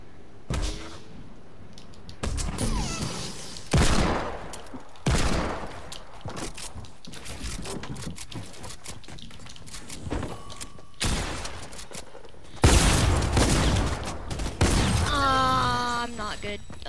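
Video game gunfire comes in several short loud bursts scattered across a stretch of play, with a louder dense volley near the end and talk heard between the shots.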